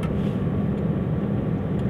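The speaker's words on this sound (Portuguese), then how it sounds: "Aqui está no segundo estágio do freio motor" A truck descending the Serra do Cadeado mountain road on the second stage of its engine brake, a loud, continuous low rumbling roar that holds steady without breaks, with no voices.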